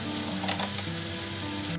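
Carrots sizzling in a pan after fragrant aromatics for pastel tutup filling, a dense, even hiss of frying with a faint low hum, close and steady, no talking.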